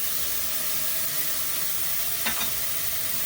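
Crushed tomatoes sizzle and hiss loudly in a frying pan being stirred, a steady close frying hiss with a brief scraping stir near the end, no talking.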